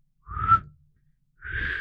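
A voice imitates a loud, high-pitched whistle, giving two separate shrill whistled tones with a short silence between them, close and clear with no talking.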